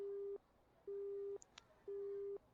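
Japanese phone out-of-service tone from the visual novel ChäoS;HEAd: three steady low beeps of about half a second each, evenly spaced, with faint clicks between, heard alone through a handset.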